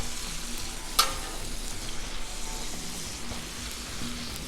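Oil spread on a hot Blackstone griddle sizzles and crackles steadily and close, with a faint scrape now and then.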